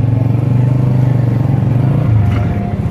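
A motorbike pulling away for a ride toward a busy market near Dehradun, its engine a steady, loud, close drone that eases off near the end, with no voices.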